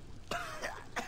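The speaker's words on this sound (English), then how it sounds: "I'm coughing up blood that ain't mine." A male character in the Gears of War 2 video game coughs and clears his throat in a few rough, close bursts.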